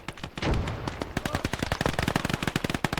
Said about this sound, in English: there is a few mortars going off too, which make life very hard at times